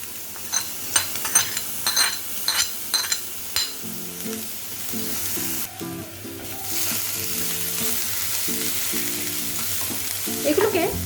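Spoon clinks and scrapes against a pan, then hot oil bursts into a loud, steady sizzle as garlic and chili begin frying.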